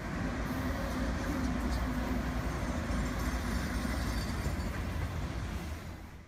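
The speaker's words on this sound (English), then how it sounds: "a general merchandise KC bound freight headed through a scenic cut in the downtown area" A BNSF general merchandise freight train bound for Kansas City rolls loudly through a scenic downtown rock cut, a continuous heavy rumble of wheels and cars that stays close and constant before easing slightly at the end.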